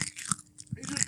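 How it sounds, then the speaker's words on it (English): Close-up biting and crunching of raw carrots, a few sharp crisp snaps followed by brief chewing, loud and near the mouth. "Oh, they're real crunchy."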